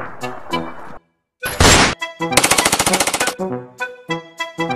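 Rapid bursts of gunfire in a Punjabi comedy sketch, a loud machine-gun-like rattle of evenly spaced shots after a sharp blast, between stretches of other loud effects.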